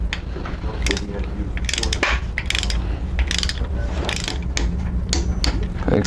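Ratchet and torque wrench tightening cylinder head bolts on a 1996 Chevy K2500 engine: steady rapid ratchet clicking throughout, with sharp louder torque-wrench clicks standing out at intervals, close and continuous.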